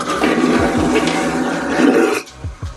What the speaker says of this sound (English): This is the button on the toilet, and when you press it,